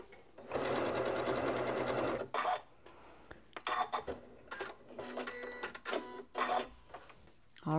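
A Janome MC9400 sewing machine runs a long triple stitch in several bursts: one sustained run, then shorter starts and stops, close and fairly loud, with no talking.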